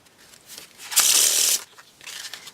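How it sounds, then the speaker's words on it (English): A single pharaoh (riffle) shuffle of a Come to Chew playing-card deck: a soft lead-in, then a dense burst of rapid flicking for about half a second, and a lighter riffle after. "Take a look at a Pharaoh shuffle."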